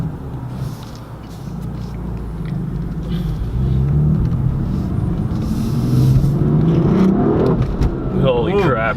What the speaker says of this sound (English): the boost just comes on strong, tires are spinning